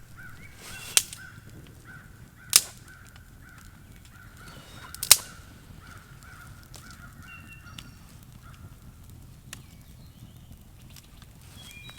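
Crows call from a large flock in trees near a campsite, heard as faint, distant cawing under a quiet outdoor background, with a few sharp nearby clicks and knocks.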